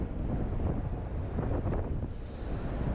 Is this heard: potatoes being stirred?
no